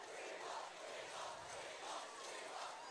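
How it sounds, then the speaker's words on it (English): An excited student-section crowd in the stands at a high school football game between Liberty Creek and Nolensville roars in a steady, continuous wash of cheering and shouting, heard from a distance without pause. "Nolensville's crowd's excited here."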